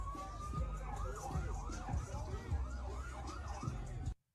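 An ambulance siren wails in a steady rising-and-falling pattern over low traffic rumble, then cuts off abruptly at the end.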